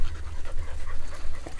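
Hunting dogs pant rapidly and steadily during a rabbit hunt outdoors, close by and fairly loud, a quick rhythmic huffing with no talk.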